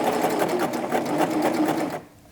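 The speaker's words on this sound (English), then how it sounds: "now I'm going to serge up to where my pins are at, and I'm just going to serge it a little bit there" A serger sewing machine overlocks the edge of fabric, giving a steady, close whirring hum with a rapid stitching pulse that runs for about two seconds and then stops abruptly.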